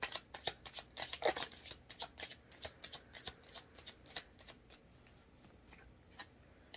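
Rapid, crisp tarot card shuffling close by, a run of snappy riffles that gradually thins out toward the end.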